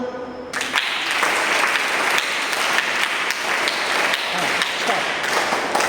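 A group of scout students clapping together in a burst of dense, continuous applause, fairly close and loud, with voices mixed in among the claps.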